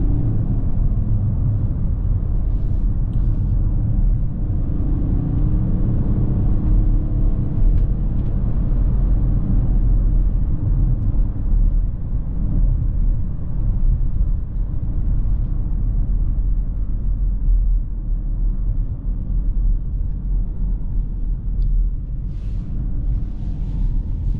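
Continuous loud rumble and road roar from a 2022 BMW X5 xDrive40d accelerating hard, heard from inside the cabin with a steady, dense engine drone throughout.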